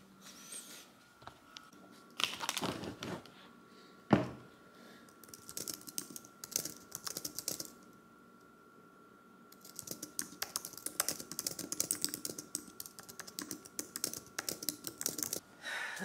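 Typing on a computer keyboard in a work-from-home setting comes in uneven bursts of close, crisp keystrokes, with short pauses and a sharper clack partway through, no talk.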